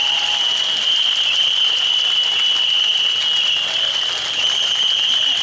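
Dense, steady clapping fills a rally stage as a performer is welcomed up at a Thai amnesty political gathering, with a persistent high electronic whine running through the whole stretch and no one speaking.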